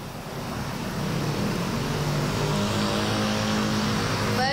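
Steady, dense road traffic at the Simpang Kuningan intersection in South Jakarta in the afternoon, with a continuous engine rumble and vehicles passing close by at an even loudness throughout.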